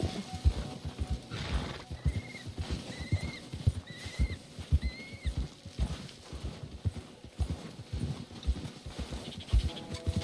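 Horse hooves clip-clop in a steady rhythm in Red Dead Redemption 2, with repeated whinnies and snorts over the trotting, moderately close and fairly quiet.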